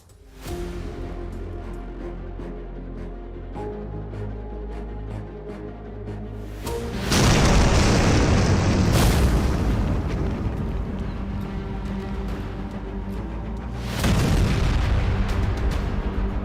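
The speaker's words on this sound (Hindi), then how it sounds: "परमाणु एयरबेस पर एटम बम फटने जैसा नजारा देखने को मिला है।" A huge blast at a nuclear airbase in Russia comes through as a sustained, rumbling roar that swells abruptly after a quieter stretch, holds loud and dense, then surges again near the end.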